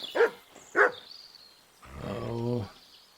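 Dog barking in the video game Kingdom Come Deliverance 2: two short, sharp barks close together, followed by a longer drawn-out whine or growl, fairly near.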